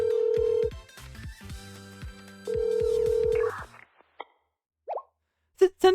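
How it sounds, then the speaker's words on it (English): A phone rings in the video game Blue Archive: two long electronic ring bursts with a steady tone and rhythmic low pulses, followed by short clicks and bleeps before falling silent. "I called Ryo's burner phone."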